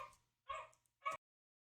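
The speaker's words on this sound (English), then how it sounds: "I got an ancient dog that loves barking." A small dog gives two short, quiet yips a half-second apart, faint and slightly distant.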